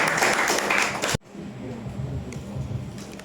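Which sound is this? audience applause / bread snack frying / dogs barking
audience applause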